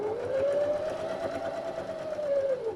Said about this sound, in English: my machine, move it closer again, switch it on, start where I've marked for the sewing